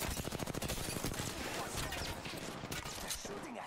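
Rapid, continuous bursts of gunfire from a player's weapons in a ranked video game match, dense and loud throughout with short overlapping shots and no clear pauses.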